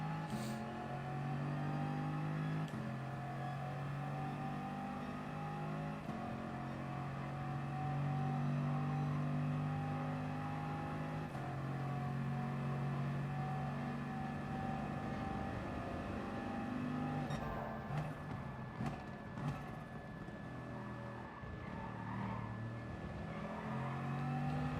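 Racing car engine in a video game race, a steady sustained drone with layered harmonic tones holding throughout, shifting pitch slightly as gears change, loud and continuous with no talk.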